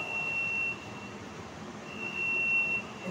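Alarm on a deep freezer in a walk-in seed germinator chamber, sounding after the door is opened: a steady high electronic tone that holds, drops out briefly, then resumes, over fan and airflow hum.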